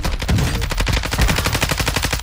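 Rapid volley of shotgun blasts fired outdoors near a bridge, a dense string of loud, close reports in quick succession with no talking over them.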